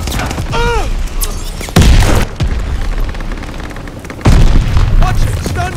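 Mortar barrage in an online multiplayer shooter: loud, heavy booms land in two big bursts with rumbling debris between them, under scattered game sounds.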